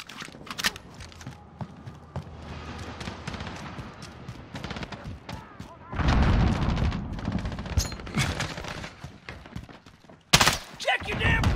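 Gunfire rattles through a Call of Duty: Modern Warfare beta match: scattered shots and thuds build into loud, dense automatic bursts midway and again near the end, with voices calling out during the action.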